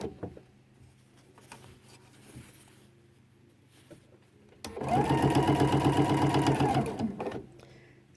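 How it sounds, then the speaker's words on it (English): A sewing machine stitches binding onto a quilt in one loud, steady run of rapid needle strokes lasting a couple of seconds, after a quieter stretch of faint handling noise. "So I'm going to sew down this side."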